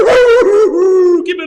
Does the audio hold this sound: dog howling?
yes